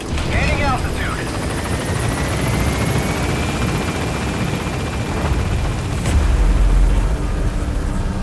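P-Quad helicopter in Metal Gear Solid V: The Phantom Pain gaining altitude, a loud steady rotor thrum with rising whine and a deeper surge near the end, under radio-style talk.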